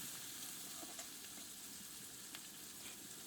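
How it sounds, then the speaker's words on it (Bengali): Prawns coated with turmeric fry in hot oil, giving a continuous soft sizzle with a few faint clicks of stirring, quiet and steady throughout. "একটু হলুদ দিয়ে চিংড়ি মাছটা ভালো করে ভেজে নেব।"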